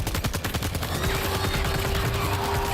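Rapid gunfire in Death Stranding 2: On The Beach, a dense stream of loud, close shots in quick bursts, with a steady tone droning beneath the shooting throughout.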